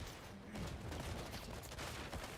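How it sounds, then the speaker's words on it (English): Rapid gunfire in a James Bond 007 video game, a dense continuous volley of shots filling the whole stretch at steady loudness with no talk over it. "That's a lot of gunfire."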